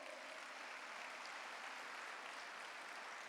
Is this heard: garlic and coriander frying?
no